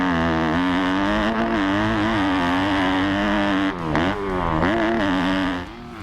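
A 250 motorcycle engine revs hard under throttle, its harmonic drone rising and falling through gear shifts, close and loud throughout before easing off at the end.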